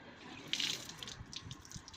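Water poured through a clogged washing machine drain pipe while the pipe is cleared with a metal rod, a close, steady splashing gush with scattered drips and sloshes.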